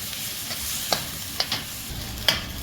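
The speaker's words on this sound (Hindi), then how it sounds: "इसमें मैं डालूँगी ये जिंजर गार्लिक का पेस्ट, और इसे हम इसमें थोड़ा सा फ्राई करते हैं" Ginger garlic paste fries with beef or mutton in a pan over a low flame, a soft steady sizzle broken by a few sharp crackles and pops, with no talk.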